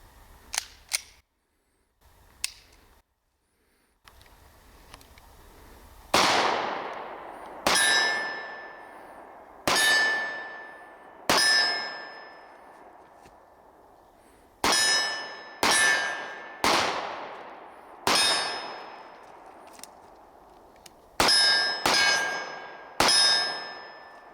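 Pistol shots from a 20-round magazine hitting steel targets: a series of sharp cracks with ringing metallic clangs, irregularly spaced, some in quick pairs, each tailing off, with a few faint early shots before a pause.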